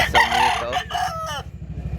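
A year-old bullstag rooster crows once, loud and close, at a chicken market in Carbon, Cebu; the full cock-a-doodle-doo rings out clearly over faint background murmur.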